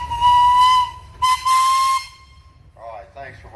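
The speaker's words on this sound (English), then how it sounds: "How about a whistle there, Kevin?" A 1/3 scale model steam engine sounds its whistle in two loud, steady blasts, the second longer, followed by a brief hiss of steam, heard close at an outdoor engine show.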